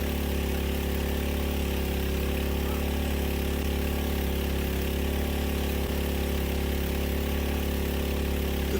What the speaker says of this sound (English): The power of that mud pump and reducing it down to 1 inch made this chore so easy.